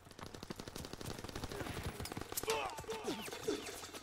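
Rapid gunfire from Call of Duty WWII fills the scene with repeated sharp automatic bursts and scattered shots, moderately distant and quiet overall.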